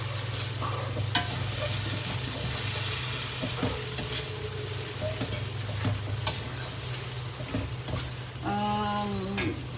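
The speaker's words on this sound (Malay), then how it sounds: "Daging kalau kita nak goreng," Beef fries steadily in a hot pan with a constant sizzle and spatter, while a utensil scrapes and stirs through it in irregular strokes; a few clinks stand out near the end.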